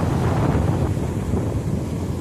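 Seashore in Gujarat at high tide, with waves surging and a strong wind buffeting the microphone. The roar is loud and steady, with no talk heard.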